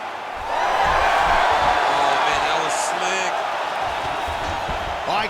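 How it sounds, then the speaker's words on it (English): Arena crowd in the EA Sports UFC 5 video game, a sustained loud roar and cheering that rises sharply and holds, with a commentator talking over it. "Crowd absolutely loving it as the fighters, however compromised, make their way back to the feet."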